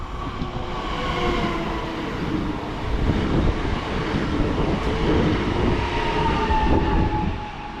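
An Express Intercity Poseidon train hauled by EU200-014 locomotive passes on the S3 airport line at Warszawa Toruńska, a steady loud rumble and rail clatter filling the whole stretch with no voices.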